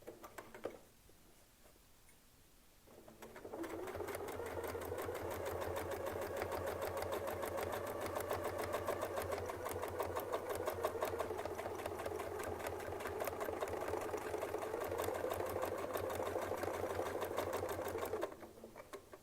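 A Westalee Spin E Fex 14 sewing machine stitching a quilt, starting after a quiet pause and then running as a steady rapid whirring hum with fast ticking for about fifteen seconds before stopping.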